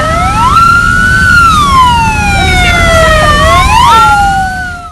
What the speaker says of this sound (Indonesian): barisan pemadam kebakaran pun dari segala penjuru bergegas menuju lokasi kebakaran